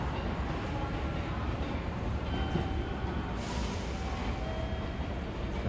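Limited Express Shinano train pulling into JR Nagoya Station, a steady loud rumble and roar of the rolling train filling the station platform, continuous throughout with faint squeals and no clear talk.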